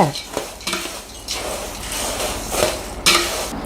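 Crispy homemade poha snack mixture tossed with chilli powder and salt in a metal pan, giving a close, dry rattling and scraping in uneven strokes with no talk.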